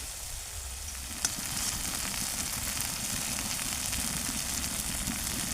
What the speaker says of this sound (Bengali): এবারে এতে আমি দিয়ে দেব ভেজে রাখা আলু আর ব্রোকলি।